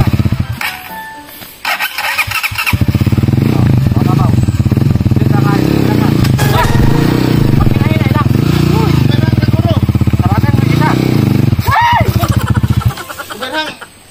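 Habal-habal motorcycle taxi engine idles, then revs and runs steadily for about ten seconds, loud and close, while passengers talk and shout over it.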